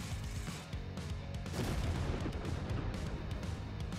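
Rapid, dense bursts of explosive gunfire from an explosive pumpkin minigun in the Trailmakers video game, a continuous loud barrage of booming shots lasting several seconds.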